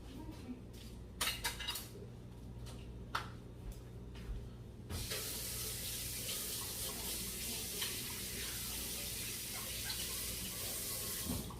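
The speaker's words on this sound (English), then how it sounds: "I'm gonna rinse out my tongs because I'm gonna use that for this as well." Cooking tongs are rinsed under a kitchen tap, with a few clinks and handling sounds before the water comes on as a steady close rush that runs to the end.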